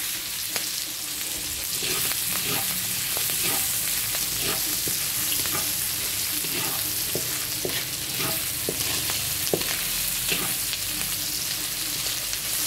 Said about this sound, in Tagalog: Inigisa na natin yung sahog natin. Ito. Pinapalabas muna natin yung taba.